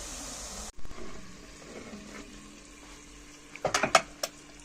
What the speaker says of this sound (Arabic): هذه هي البصله نقليوها كما البطاطا، نزيدو شويه نحمروها